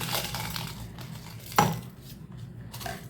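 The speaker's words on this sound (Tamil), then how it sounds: "இந்த காஞ்ச மிளகா நான் ஒரு பன்னெண்டு மிளகா எடுத்திருக்கேன் அதை போட்டுடலாம்" Dried red chillies, about twelve, drop into a steel grinder jar with a sharp clink in the middle among softer rattles and taps, close and fairly quiet with no talk.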